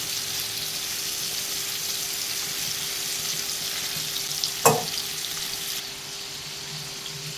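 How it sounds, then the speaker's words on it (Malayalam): Chicken sizzles steadily in a frying pan at home for a Kerala-style chicken curry, a constant crackling hiss with one sharp clack partway through. "നമുക്ക് ചിക്കൻ്റെ ഒരു സൈഡ് അഞ്ച് മിനിറ്റ് വീതം രണ്ട് സൈഡും ഫ്രൈ ചെയ്തെടുക്കാം"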